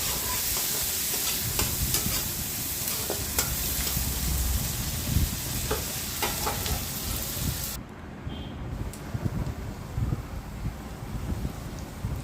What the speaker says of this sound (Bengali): এবার পেঁয়াজ আর আলুটা একটু ভালো করে ভেজে নেব।